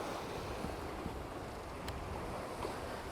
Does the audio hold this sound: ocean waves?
yes